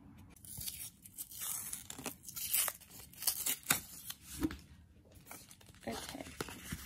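Tape is torn and peeled off a package being opened, giving repeated ripping and crinkling bursts at close range. A speaker can be heard talking softly between the sounds.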